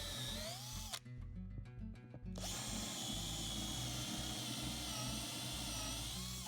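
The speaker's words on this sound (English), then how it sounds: "I drilled all the holes out to about double the size of the diameter of the original hole." A power drill bores holes in a sailboat deck in one loud, close burst of whining drilling lasting over a second, set against a steady background drone before and after.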